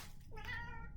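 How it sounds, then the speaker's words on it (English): A house cat gives one loud, close meow that rises and then falls away, lasting under a second, with a faint low hum behind it and no speech. "my cat is being really loud."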